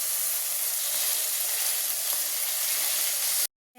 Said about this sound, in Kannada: ಮೆಂತ್ಯ ಸೊಪ್ಪು ಎಣ್ಣೆಲಿ ಚೆನ್ನಾಗಿ ಫ್ರೈ ಆಗಿದೆ